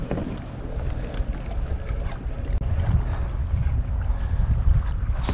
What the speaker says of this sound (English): Wind's picking back up again.